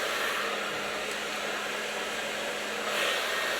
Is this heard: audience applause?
no